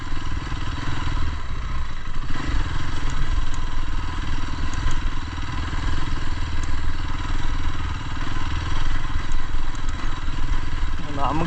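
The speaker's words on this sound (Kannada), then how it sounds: "ಸಖತ್ತಾಗಿ ಹೊಡಿತಾ ಇದ್ದು ಗಾಡಿ ಮಾತ್ರ" Motorcycle ridden along a rough off-road dirt track at Bolumalai, engine droning steadily and loudly throughout with clattering and thudding from the bumpy ground.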